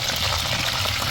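Curry leaves sizzle in hot coconut oil for a beef stir-fry, a dense, steady crackling hiss close by with no voices.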